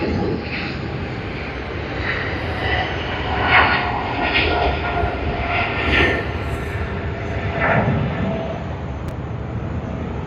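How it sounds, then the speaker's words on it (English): A Japan Airlines jet airliner bound for Tokyo Haneda roars loudly at Sydney Airport, with a broad, sustained engine rumble that swells and eases in a few slow surges. "capturing this awesome Japan Airlines"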